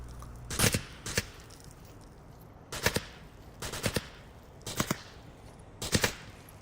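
Sharp bursts of automatic gunfire from Onward VR come in about six quick clusters at an even spacing, loud against a quiet background.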